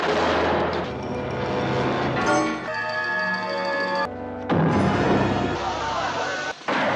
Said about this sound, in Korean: 테일러는 총에 맞아 쓰러지고